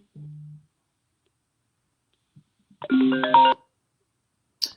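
A phone ringtone chimes on a call with patchy connectivity, a short bright melodic burst of stacked tones lasting under a second, preceded by a brief low hum and followed by quiet clicks.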